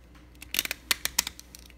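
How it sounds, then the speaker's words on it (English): Ratcheting joints of a Play Arts Kai Wolverine action figure, a few quick faint clicking bursts close by, alone without talk. "You can hear them ratcheting."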